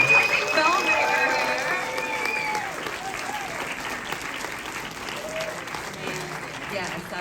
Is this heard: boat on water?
no